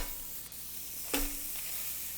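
Smash burger patties hit a ripping-hot pan with a sudden loud sizzle, settling into a steady hiss of frying close by.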